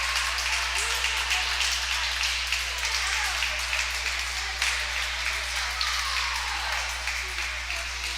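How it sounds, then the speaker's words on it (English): Scattered applause and clapping from spectators at an indoor youth swim meet, a steady wash of hand claps echoing in a natatorium, with some crowd chatter mixed in. "Got some clapping going on here"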